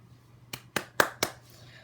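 Four single hand claps in a quiet room, sharp and close, spaced about a quarter second apart, with a low steady hum underneath and no talking.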